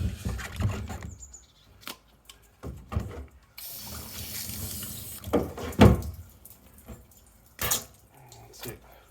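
Water rinsing out a snow foam lance bottle after a car pre-wash, irregular bursts of splashing and running water close by, with some clattering handling noises between them.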